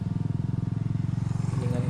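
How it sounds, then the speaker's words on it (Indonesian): A motorcycle engine close by, a steady pulsing low putter that holds for a couple of seconds and swells slightly as it goes past. "Oke, tahan dulu, soalnya ada motor."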